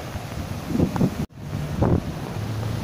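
Wind buffets a microphone at the seaside with low, broad wash of sea waves beneath, two swelling surges and a brief dropout midway.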